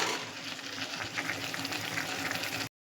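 Fish and spices sauté in hot oil over medium heat, a steady, close sizzle with light stirring scrapes, continuous and even until it cuts off abruptly.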